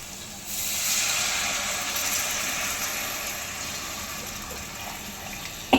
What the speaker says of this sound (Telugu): అట్లా పోసుకోవాలి చింతపండు